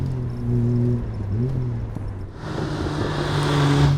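A straight-six car engine drops off the throttle and crackles with small pops on the overrun, then picks up again under a broad, close exhaust roar, with no talking.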